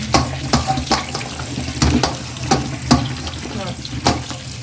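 Water runs steadily from a tap while okra is rinsed, with repeated knocks and clatters against a metal sink or bowl, close by.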